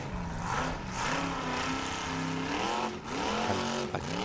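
A formula offroad buggy called the Raptor at a competition in Egilsstadir, Iceland, its engine revving hard and continuously at high pitch with brief throttle dips, loud and close throughout.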